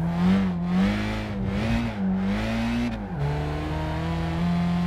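A Peugeot 207 GTI revs and shifts in Gran Turismo 5, its engine note rising and falling several times before settling into a steadier drone, loud and close throughout.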